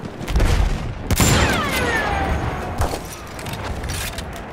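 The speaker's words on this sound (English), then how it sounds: "Enemy machine gun!" Gunfire fills a Battlefield 1 battle: a loud burst of shots and booms, with a sharp crack near the start of the second second and more rattling fire after it, over dense wartime noise.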